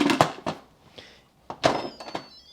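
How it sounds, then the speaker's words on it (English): An Instant Pot lid is set on and twisted into its locked position, giving a few quick plastic-and-metal clunks and clicks, close up and fairly quiet, with brief pauses between them. "locking it into place"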